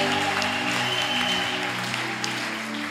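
A church congregation at an evening conference applauds and acclaims the Lord, a steady, dense wash of clapping and cheering voices over a sustained musical tone, continuous throughout.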